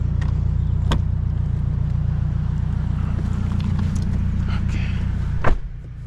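A 2023 Subaru WRX with a JDM-spec grille, tuned to about 300 wheel horsepower, idles or rolls with a loud, steady low engine drone and a throbbing exhaust pulse, with a sharp knock near the end.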